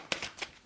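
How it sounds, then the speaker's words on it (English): Old, worn tarot cards are shuffled up close. Two or three quick, crisp riffling bursts come in under a second, and no one speaks. "I'll shuffle these old cards again."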